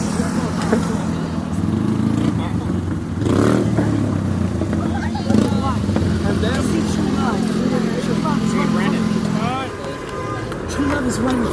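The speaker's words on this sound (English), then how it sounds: "Brandon, you gotta park your bike." A motorcycle engine runs steadily throughout, with a low continuous rumble and occasional revs, while several people talk over it.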